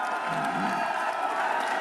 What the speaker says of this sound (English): The supporters behind him cheer